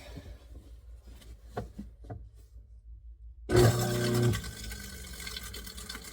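In a kitchen sink, after quiet knocking and trickling water, a garbage disposal roars on abruptly and loudly with a grinding churn, then drops to a lower rumbling whir.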